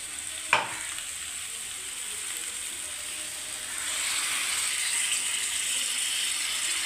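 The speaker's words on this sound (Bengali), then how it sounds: "অল্প একটু জল দিয়ে এবার কষাবো এটাকে" Crab sautés in a pan with a splash of water, opening with a sharp clatter, then a soft sizzle that swells into a steadier, louder hiss.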